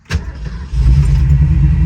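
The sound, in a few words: 1967 Shelby GT350 engine starting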